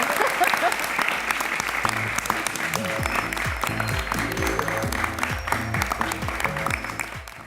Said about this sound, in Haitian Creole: Et je vous demande d'applaudir,